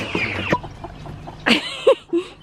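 Backyard chickens clucking and calling up close, a series of short, loud squawks and murmured clucks in irregular bursts with quiet gaps between them.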